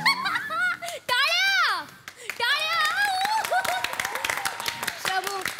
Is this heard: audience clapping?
yes